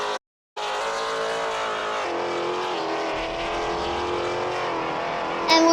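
A race car engine and exhaust roar in the Roblox Car Tycoon video game, a loud continuous high-revving drone after a brief silent gap at the start, with a sharp burst near the end.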